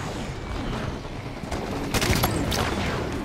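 Rapid gunfire from the Halo 5 video game, a sustained fusillade of overlapping shots with a few louder bursts, dense and continuous throughout.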